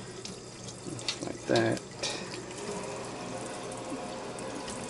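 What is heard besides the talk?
water from a tap rinsing fish fillets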